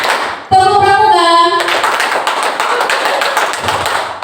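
A group performs the Indonesian scout clapping pattern (tepuk pramuka) during a teacher-led session. A brief tonal call comes first, then a burst of loud, rhythmic, closely spaced hand claps.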